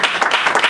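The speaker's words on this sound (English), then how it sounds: "Now another final round of applause." Audience applause from a comedy magic show crowd, a short, steady patter of many hands clapping at a dense, even level.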